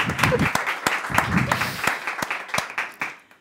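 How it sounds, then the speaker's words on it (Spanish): An audience at a literary talk about solitude applauds, with a steady patter of many hands and distinct sharp claps standing out, moderately near. A voice is heard under it before the applause tapers off at the end. "¿Le damos un aplauso?"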